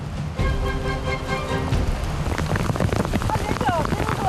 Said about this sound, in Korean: 잠깐 소강 상태였던 비가 다시 내리기 시작했다